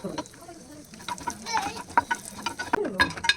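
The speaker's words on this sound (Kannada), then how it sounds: "ನಂತರ ಬಂದು ಅದೇ ತುಪ್ಪಕ್ಕೆ ನಾನು ಅಂಜೂರ ಹಾಕ್ತಾ ಇದ್ದೀನಿ" Figs frying in hot ghee for dry-fruit laddus, with steady close sizzling and crackling broken by sharp pops and light stirring scrapes throughout.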